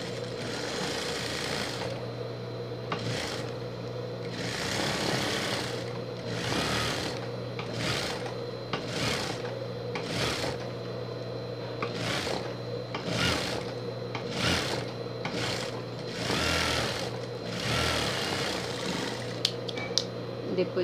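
A sewing machine runs steadily while lining fabric for a pet carrier, a continuous close mechanical hum with rhythmic stitching pulses throughout, and faint handling noises near the end.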